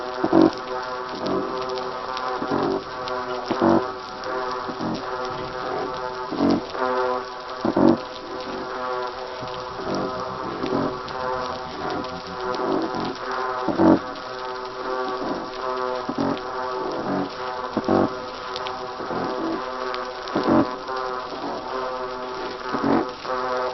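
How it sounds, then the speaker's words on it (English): Underwater fish chorus of three species, a dense steady buzzing drone with repeated rhythmic low pulses and knocks throughout, continuous and fairly loud with no voices. "Here's the 3 fish chorus again."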